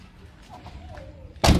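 A car door on a 2007 Daihatsu Espass (Zebra Master EFI) shut once with a single loud, close thud after a short quiet pause.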